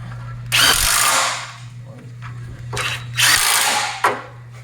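A power tool tightens bolts on a Subaru STi rear differential. Two loud, close whirring bursts of about a second each stand over a steady low hum, with a brief, sharper final zip.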